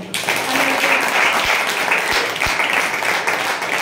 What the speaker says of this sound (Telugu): ప్రైస్లో చప్పట్లు కొట్టండి